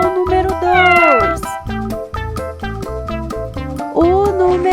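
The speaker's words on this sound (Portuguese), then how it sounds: "O número 2 é o gato." A cat meows twice in a children's animal-sound quiz: a rising-then-falling meow near the start and a shorter one near the end, both set over steady, rhythmic background music.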